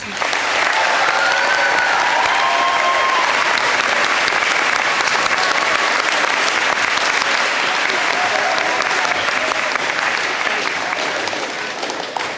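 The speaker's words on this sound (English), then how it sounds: "Please join me in giving our 8th graders a round of applause." Loud, sustained audience applause at an 8th grade promotion ceremony, a dense continuous roar of many hands clapping that holds steady for the whole stretch before tapering slightly at the end.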